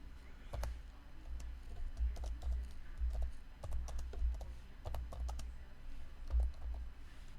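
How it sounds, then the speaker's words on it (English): Typing on a computer keyboard, a run of close, irregular clicking keystrokes with brief pauses, over a quiet room hum and no talking. "I should type that in"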